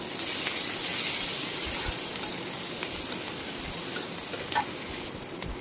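Chopped green chillies fry in hot oil with a steady, fine crackling sizzle throughout, a few louder pops and spits standing out near the end.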